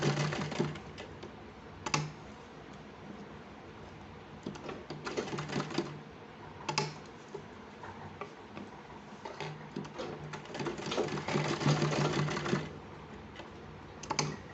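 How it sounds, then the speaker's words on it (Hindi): A sewing machine runs double stitching on a small child's kurta made from old clothes, giving fast, close mechanical clatter in bursts of varying length with short pauses between runs. "यहाँ पे आप डबल सिलाई लगाएं"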